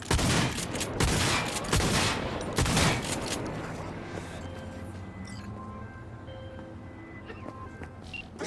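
Gunfire in the video game Cyberpunk 2077 comes as a dense burst of rapid shots for about three seconds, then it fades into a ringing, humming tail with scattered faint sounds.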